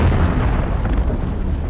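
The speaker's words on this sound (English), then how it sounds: "There is a lot of explosions." Continuous heavy rumbling explosion noise from the video game Dune Awakening, loud and dense low booming that fills the whole moment without a break.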